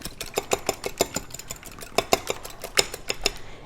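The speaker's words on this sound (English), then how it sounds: "there are my 2 eggs, and I'm going to whisk those up just a little bit" Two eggs whisked briskly in a bowl, rapid rhythmic clinks and taps of the whisk against the sides, close and fairly loud, with no voices.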